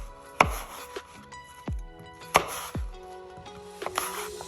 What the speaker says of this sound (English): I've cut my 1/2 of an apple, and we're going to slice this into thin slices